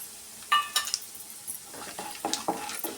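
Cumin, split lentils and cashews frying in oil in a pan for shavige bath, with a low sizzle under sharp clinks and scrapes of a spoon against the pan; no talking.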